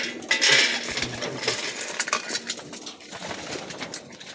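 Pigeons being fed in the evening before a derby: clinking and rattling of feed and dishes with soft bird sounds and a faint coo, close and busy, no speech.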